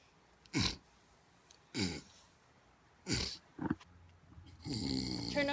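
A person snores in loud rasping bursts, four separate snorts spaced about a second apart, followed by a longer drawn-out wheezing breath, close up with no talking.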